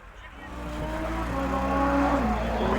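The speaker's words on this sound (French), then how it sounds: "Il y a de la GT3 qui arrive." A Porsche 911 GT3 sports car pulls up at a Sunday car meet, its engine drone building steadily louder and rising in pitch as it approaches, with no one talking.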